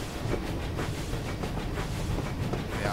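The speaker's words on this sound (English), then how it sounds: "It is a steam train after all." A Southern Region steam locomotive in Train Simulator 2017 runs steadily, with a dense, rhythmic chuffing and rumbling texture at a moderate, even level and no talk.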